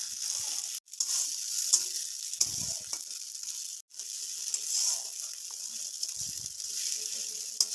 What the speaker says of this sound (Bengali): রসুনটা দিয়ে একটু নাড়াচাড়া করে নেব যাতে রসুনের কাঁচা গন্ধটা চলে যায়।